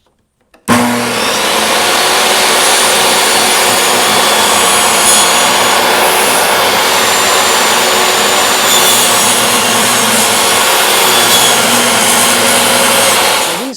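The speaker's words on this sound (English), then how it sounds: "I have a great deal of respect for these table saws, and anytime I think my fingers are going to be close to the saw blade itself" A table saw rips through wood with a feather board in place, starting abruptly and then holding a loud, steady whining roar with a grinding cutting edge for about thirteen seconds before easing off, with no voices.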